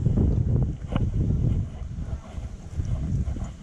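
Steady wind buffeting an outdoor microphone, a low continuous rumble with gusty swells and no clear voices.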